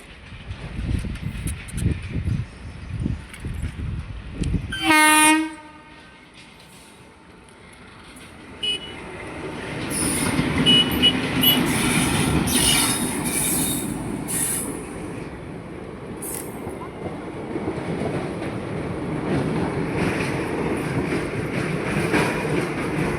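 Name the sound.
local train passing railway crossing with horn in Bihar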